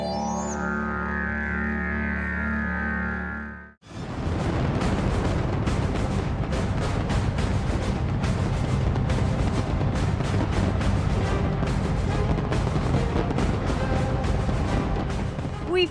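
A huge New Year's Eve fireworks display in Dubai erupts after a brief tonal music passage, with a dense, continuous barrage of loud crackling bursts and booms that runs unbroken for many seconds.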